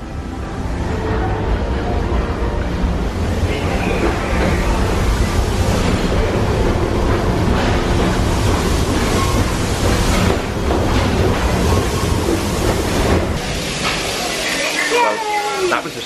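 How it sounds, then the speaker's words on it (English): A train pulls into a station platform at Disneyland Paris, a broad rumbling hiss with rising squeals near the end, loud and close, with people chatting over it. "The train's here."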